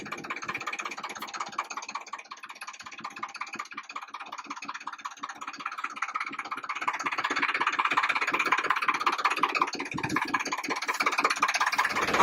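A tractor engine runs in first gear with a steady, rhythmic chugging pulse. It is moderately close and swells slightly louder partway through.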